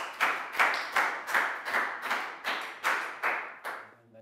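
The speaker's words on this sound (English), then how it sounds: "big round of applause for Chu" A small class of pupils clapping in a schoolroom, about ten evenly spaced rhythmic claps in unison, close and moderately loud, stopping abruptly.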